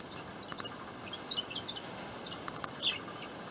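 Rosy Bourke's parakeets give faint, scattered high chirps and short tweets against a steady background hiss, with a slightly louder call near the end.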